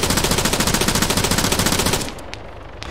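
Automatic gunfire in Arma 3 rattles in a fast, sustained burst for about two seconds, loud and close, then cuts off leaving a few faint scattered shots.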